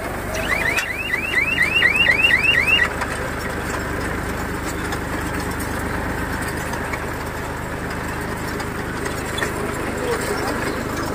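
A Swami scaleless hay baler's buzzer alarm sounds a rapid run of rising electronic chirps for about two seconds over a tractor engine idling nearby, and the idle carries on alone afterward.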